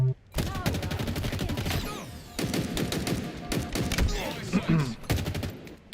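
Rapid automatic gunfire from a Halo match, dense bursts of shots in quick succession with short gaps, loud and close, with voices talking over parts of the exchange.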